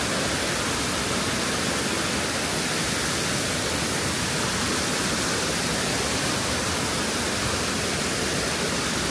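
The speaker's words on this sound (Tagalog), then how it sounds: "2-tier waterfall." A loud, continuous roar of rushing water from a two-tier waterfall at Botolan Falls, swollen by rain, steady and close, with no voices.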